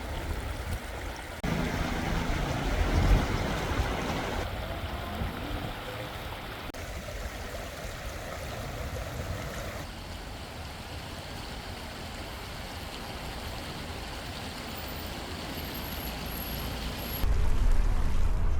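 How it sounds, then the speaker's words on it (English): Steady broadband rush of a flowing mountain stream in the Dades and Todgha Gorge area of Morocco, continuous and fairly close, with no voices; the wash swells slightly louder near the end. "walking by the stream, listening to the soft sound of flowing water"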